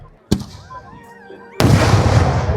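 One sharp firework bang at a temple festival ground in Kerala, a brief lull with whistling streaks, then a loud, dense burst of crackling explosions close by.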